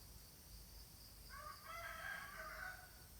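A cockerel crows once in the Khao Sok jungle, a faint, distant call that swells briefly and breaks off before it finishes, over a low background hum.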